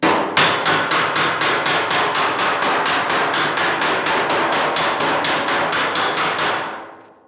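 A metal slapper strikes a warped, welded steel car panel held on a dolly, restoring bodywork for a 1940 Ford-inspired build, in a steady run of about two dozen loud, evenly spaced ringing blows that stop near the end.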